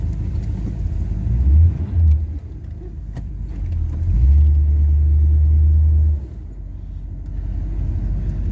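A car engine hums steadily at close range, its low rumble swelling briefly in a couple of places as it revs before settling back to an even drone.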